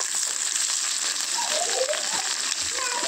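Egg omelette frying in a pan as it is flipped over, a steady loud sizzle and crackle of hot oil filling the whole stretch, with a few soft scrapes near the end.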